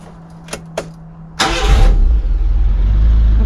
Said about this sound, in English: The car is starting at the moment